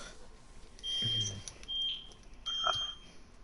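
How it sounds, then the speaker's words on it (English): A fire alarm going off, three shrill piercing beeps in a broken pattern, fairly close and loud against a quiet room with no talk. "It's a fire A alarm. very annoying one at that."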